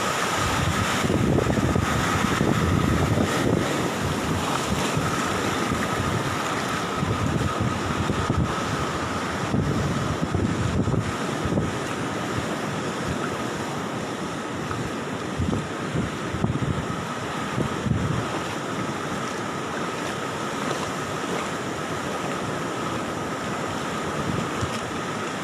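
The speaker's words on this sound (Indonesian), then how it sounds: "ombak memasuki wilayah warung-warung yang ada di pantai Tanjung Pakis saat ini" Sea waves surge into beachside food stalls at Tanjung Pakis beach during coastal flooding, a continuous wash of surf mixed with heavy wind buffeting on the microphone, loud and unbroken with no speech.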